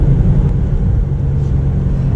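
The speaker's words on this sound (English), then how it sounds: "So definitely worth it with that M Sport exhaust that you get with the competition package." A 2021 BMW M8 Gran Coupe Competition with the M Sport exhaust under acceleration gives a steady, loud low-frequency engine rumble from inside the car that holds for about two seconds.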